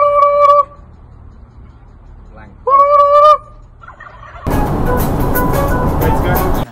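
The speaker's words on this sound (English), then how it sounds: "I'll be a turkey man talking to a turkey bird" A turkey gobbles loudly and close by in two separate bursts of rapid, harmonic warbling, with quieter gaps between, before a harsh broadband rushing noise takes over.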